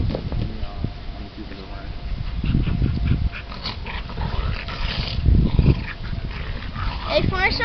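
Pit bull dogs whimper, yip and bark in short bursts close by, mixed with people talking loudly over them.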